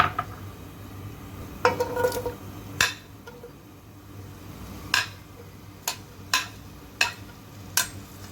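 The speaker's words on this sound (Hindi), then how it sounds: "यहाँ पे मैंने एक दूसरा बर्तन ले लिया है। अब इसमें मैं ऑयल ऐड करके इसमें प्याज डाल दूँगी" Clinks and knocks of a second cooking pot being handled as oil and onions go in for chicken yakhni pulao, several sharp metallic taps spaced irregularly over a low steady kitchen hum, no talking.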